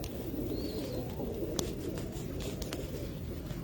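Pigeons cooing softly in a loft, low murmuring coos under a steady background hum, faint and continuous.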